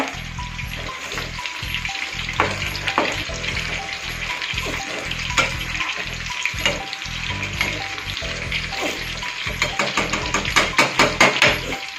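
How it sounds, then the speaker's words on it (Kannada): Spicy chicken kebab dry fries in a pan over a high flame, giving a continuous close sizzle. Scattered clinks and scraping from turning or stirring become busier toward the end. "ಎರಡು ಸೈಡು ನೀಟಾಗಿ ಡ್ರೈ ಫ್ರೈ ಆಗಬೇಕು"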